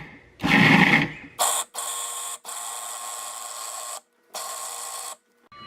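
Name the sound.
food processor pulsing tofu ricotta mix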